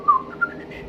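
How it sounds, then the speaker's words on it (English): A man whistles a short, thin melodic phrase while walking along a corridor, two brief bright notes rising out of a quiet, slightly hissy background. "Walking along the corridor, he actually whistled."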